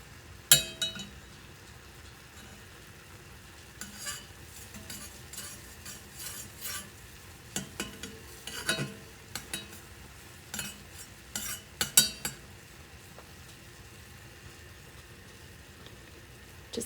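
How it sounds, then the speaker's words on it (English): Strawberry jam being stirred in a pot of very hot, boiling mixture, with intermittent spoon scrapes and light clinks against the pot over a faint background, close and without talk. "I just need to make sure that I'm stirring this"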